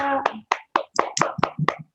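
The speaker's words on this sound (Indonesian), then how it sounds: "Beri tepuk tangan untuk Raisa." A quick series of hand claps rings out as a classroom audience applauds a student after her presentation, about seven sharp strikes in two seconds, with a brief voice at the start.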